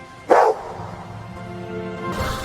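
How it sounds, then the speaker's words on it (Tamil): A dog gives a single loud bark near a small lake, followed by a steady low rumbling background with faint tonal hum and a rise in broadband noise toward the end. "ஒரு நாய் குரைத்தது."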